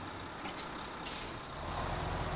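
An old Mack Pinnacle truck fitted with chains idles and rumbles nearby on an icy road, with sharp air-brake hisses cutting through the steady broadband engine noise.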